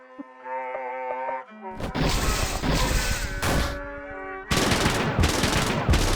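Assault rifle gunfire in the video game LISA the Joyful comes as loud, dense bursts of rapid shots with crashing impacts. Game music plays briefly before the bursts, and heavy firing fills most of the clip.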